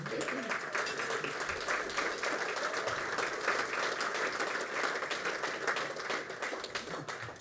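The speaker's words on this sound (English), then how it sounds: "the applause he deserves is just extraordinary" An audience at a Marine Corps birthday celebration in New York City claps in steady, dense applause that stays loud and even throughout.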